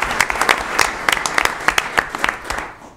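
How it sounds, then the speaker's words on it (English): Audience at a university board of trustees meeting giving a short round of applause, a few seconds of scattered, uneven claps from a modest crowd that fade out quickly. "but let's give her an applause."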